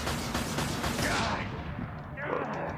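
Rocket fire from a hovering gunship in Mass Effect 2, a loud burst of rapid blasts and explosive crackle that tails off into a lower rumble, then a second burst near the end.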